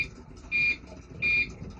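A computer UPS with a failing, swollen backup battery sounds its countdown: two steady electronic beeps, evenly spaced, each lasting a fraction of a second, heard alone over a faint background hum.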